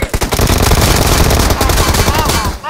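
Rapid, loud automatic gunfire from the PUBG video game, a dense, continuous burst of shots lasting almost the whole stretch before stopping abruptly.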